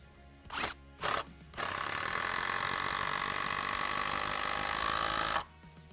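A power tool drives SPAX power lag screws into wood. Two short bursts come first, then a steady, close mechanical whirr with a ratcheting edge that runs for about four seconds before stopping.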